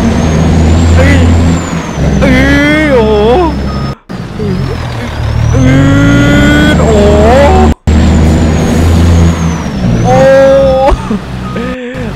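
A heavy tractor truck hauling two excavators up a mountain grinds loudly and close, its engine straining in a deep steady roar with hissing bursts; excited people talk over it throughout.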